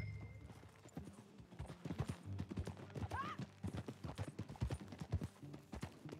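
Hooves clip-clop at a steady riding rhythm as a horse is ridden in the video game Red Dead Redemption 2, with a brief whinny partway through, fairly close and quiet.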